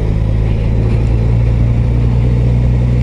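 A Suzuki GSX-S 1000 GT motorcycle engine rumbles at low revs around 2000 rpm while riding, a loud, steady deep drone with constant wind noise and no voices.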